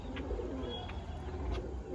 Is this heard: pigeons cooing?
yes